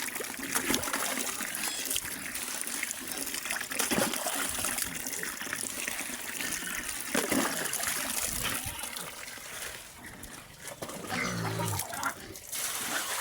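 Water pours and splashes steadily while pigs are bathed, a continuous trickling gush with scattered splatters up close, broken by a brief lull near the end.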